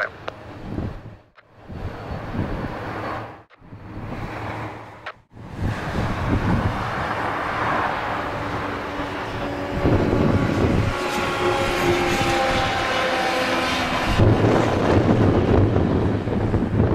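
An airplane takes off from runway 23 at Madeira airport, its engine roar steady and loud beneath heavy wind buffeting on the microphone, with a few brief dropouts early on.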